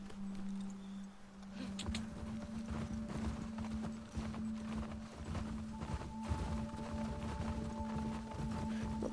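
Horse hooves gallop in The Last of Us Part II, a steady rapid clip-clop running throughout at a moderate, slightly distant level under a constant game hum, with no talk.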